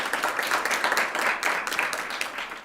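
An audience applauds for a Somali poet at a poetry reading, steady moderate clapping continuing evenly throughout, heard from within the room without talk.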